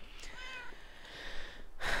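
A cat in the video game Minecraft meows clearly over steady game ambience, two or three drawn-out calls close and fairly loud, with no talking over them.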